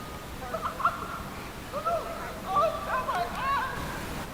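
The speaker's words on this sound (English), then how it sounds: "That's our goose." Honking calls from a goose among ducks on the ice-free water of a wintry lake, a few short nasal calls spread across the stretch over a steady outdoor background with a voice nearby.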